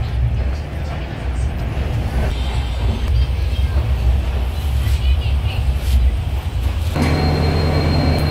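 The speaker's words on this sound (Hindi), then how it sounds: "फिलहाल ट्रेन आ चुकी है कामरूप एक्सप्रेस।" Kamrup Express pulls into a station amid a steady, loud low rumble of the passing train and rolling wagons, with constant crowd noise and a brief horn-like tone near the end.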